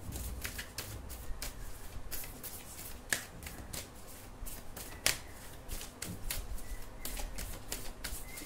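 A deck of tarot cards is shuffled steadily, with crisp riffling and flicking bursts repeating throughout and a couple of sharper snaps, close up and without speech.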